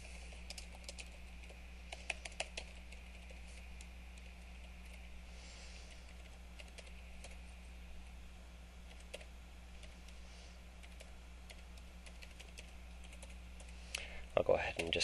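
Typing on a computer keyboard while filling in contact-information fields of an online exit survey form, a continuous run of quick light key clicks with occasional louder taps, close by over a steady low hum.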